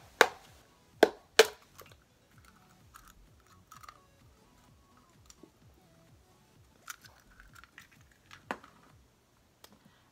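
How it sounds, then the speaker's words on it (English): An egg is cracked for a homemade hair protein treatment: two sharp, close taps come in quick succession at the start, followed by faint handling noises and a couple of later clicks in a quiet room. "I am going to crack my egg now."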